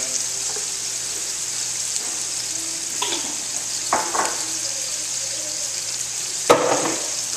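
Shrimp paste (bagoong) is stirred in a frying pan under a steady hiss of sizzling oil, with a few soft scrapes and one sharper clatter of the utensil near the end.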